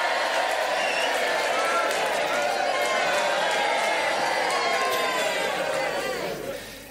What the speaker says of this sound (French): on va applaudir Victoire